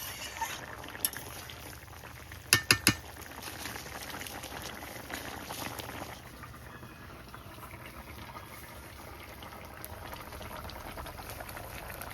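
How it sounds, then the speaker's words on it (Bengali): A thin gravy for a sea fish curry with potatoes and aubergine bubbles steadily in a pot at a quiet, continuous simmer, with a couple of sharp clinks early on. "ঝোল ফুটে উঠেছে আর আলুও সেদ্ধ হয়ে গেছে"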